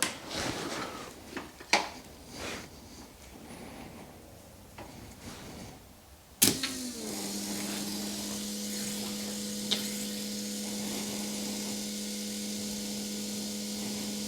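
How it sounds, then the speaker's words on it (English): A freshly rebuilt Subaru WRX engine on its first start attempt: after a few clicks and clunks, a sharp crank catches into a steady, loud idling hum with a whining tone that runs continuously to the end. "attempt to start the Subaru. This is the first attempt."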